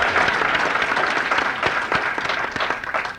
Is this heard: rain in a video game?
no